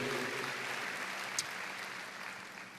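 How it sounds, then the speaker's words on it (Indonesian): Church congregation applauding, a dense, even wash of many hands clapping, moderately distant and steady for a few seconds before tapering slightly. "Beri tepuk tangan yang meriah buat Tuhan"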